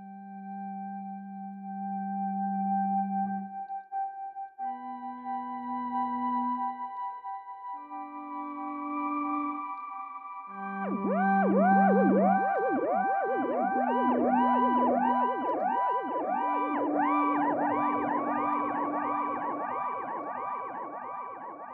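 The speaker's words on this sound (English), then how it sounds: "using a super shifter and a delay pedal to make some more high-pitched sounds" Bass guitar run through a Super Shifter pitch-shifter pedal and a delay pedal, giving high-pitched held notes that then bloom into dense, repeating echoes and swirling cascades, loud and unaccompanied.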